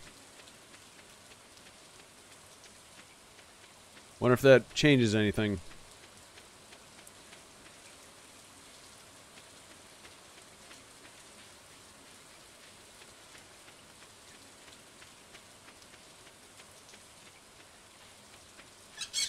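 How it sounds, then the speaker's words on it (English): Steady rain patters down in the video game Stardew Valley, a soft, even hiss that runs the whole way through, with a brief burst of talk near the start. "Ooh, it's raining."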